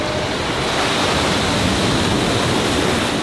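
Sea waves break along the Trivandrum coastline in Kerala, a steady broadband roar of surf that washes on continuously at close range with no voices over it.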